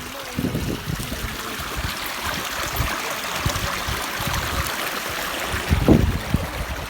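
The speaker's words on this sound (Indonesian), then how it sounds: "sudah deras airnya" Rushing irrigation water pouring into a rice field, a steady broadband wash with bubbling surges close by and a louder gush near the end, with outdoor background noise.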